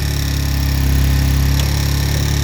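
A loader rickshaw engine with a sound problem runs close and loud, giving a steady, throbbing mechanical drone with a faint rhythmic knock, alone with no voices.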